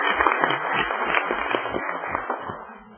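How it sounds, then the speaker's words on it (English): Audience applause for a Girl Scout troop at a city council meeting, a steady crowd clapping that stays even and then fades slightly toward the end. "if we could give them another round of applause"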